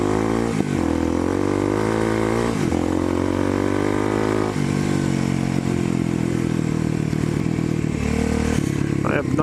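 A Kawasaki KLX dirt bike rides off-road on wet ground after a storm. The engine drones loud and close throughout, with pitch shifts as the rider changes gear and throttle.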